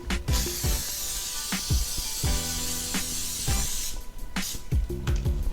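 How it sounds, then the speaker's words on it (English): A steady hiss of avocado oil sprayed from an aerosol onto a pan runs through most of the clip, close by, punctuated by a few soft clicks and taps. "I'm going to take my avocado oil and I'm going to spray the pan."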